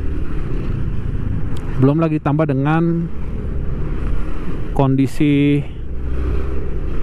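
Car and motorcycle traffic hums along the road at Puncak while someone talks over it, with engines and passing vehicles forming a steady roadside background.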